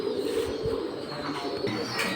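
Pankhi pigeons at a bird market coo in low, murmuring bursts, heard close against a continuous din of market background noise.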